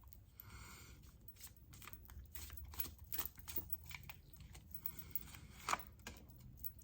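Soft, quiet riffling and flicking of tarot cards being shuffled, with scattered light taps and papery rustles close by.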